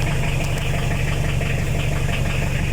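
Toyota Liteace engine idling steadily to charge a new battery, a continuous close, even mechanical hum with a light knock and vibration throughout.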